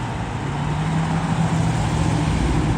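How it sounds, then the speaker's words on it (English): An old Aston Martin V8 Vantage drives past at a supercar arrival event, its engine a steady, loud low drone that holds through the whole pass with no voices over it. "V8 Vantage here."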